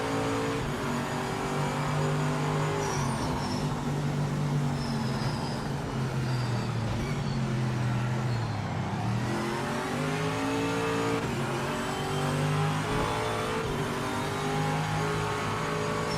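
Corvette GT C6R race car in the Project Motor Racing sim, engine roaring steadily as it revs up and down through shifts, with a dip and re-acceleration midway, heard alone without talk.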